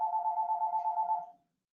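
A telephone rings nearby in a single burst of rapid electronic warbling pulses, loud and steady for just over a second before stopping into silence.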